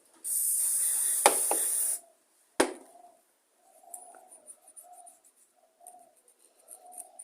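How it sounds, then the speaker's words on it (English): Carburettor cleaner sprayed in one steady hiss lasting under two seconds, followed by a short second burst, then quiet with faint birdsong and cooing in the background. "Your carb cleaner."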